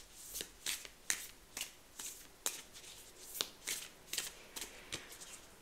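A tarot card drawn from the deck makes a quiet string of crisp flicks and snaps of card stock, about a dozen sharp taps spread unevenly, close and alone.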